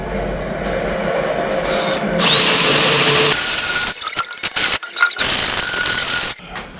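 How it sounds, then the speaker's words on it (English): A power drill bores a hole in metal for a waste oil heater build, a loud steady whine that rises in pitch, then breaks into choppy stop-start bursts before stopping, with no talking. "Now I'll drill this one."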